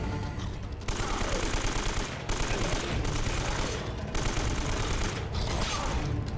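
Shotgun blasts in Uncharted: Drake's Fortune, several loud booming shots fired in quick succession amid dense continuous gunfire and battle noise, with no voices.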